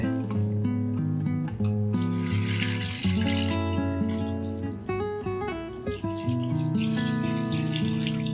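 Tap water runs steadily into a sink or bowl while halwa fish (pomfret) is washed clean by hand, splashing and squishing up close with shifting pitch as the vessel fills and the fish is rinsed.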